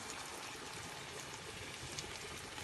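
Pasta water boiling steadily in a covered pot on the stove, giving a constant dense bubbling hiss with no talk.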